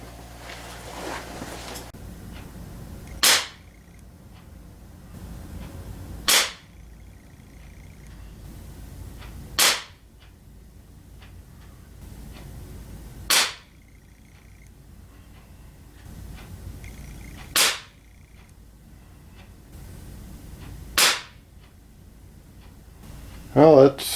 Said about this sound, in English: we're gonna just try some target shooting at 10 yards using the open sight. We'll be shooting Crossman Premier hollow points,